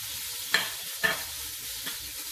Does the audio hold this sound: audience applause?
no